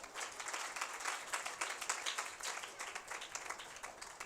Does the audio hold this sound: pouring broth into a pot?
no